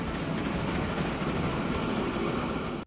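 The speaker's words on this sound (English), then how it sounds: "And there's a food train right there." A freight train rolls through a Transport Fever 2 game world, a steady close rumble with wheel clatter running continuously before cutting off abruptly at the end.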